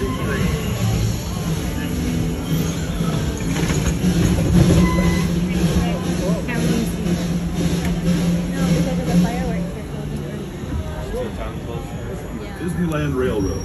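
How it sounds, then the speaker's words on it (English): Disneyland Railroad train rumbling steadily along with faint rhythmic clatter and onboard noise, while a recorded announcement plays over it throughout. "For a safe ride, remember to stay seated with your hands, arms, feet, and legs inside the train."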